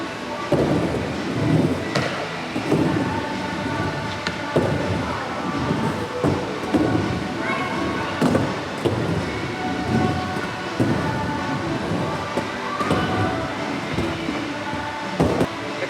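A skateboard rolls and lands a half cab rock trick during a skate session, with loud continuous wheel rumble broken by several sharp board clacks and no talking.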